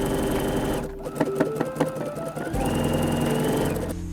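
Sewing machine stitching a zigzag edge finish on fabric: a steady, close mechanical whir with rapid needle clatter, briefly pausing to a few individual ticks before running again.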